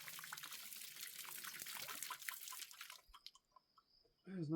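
Water gushes and splashes steadily from a pump for a few seconds, then drops to scattered drips and trickles nearby.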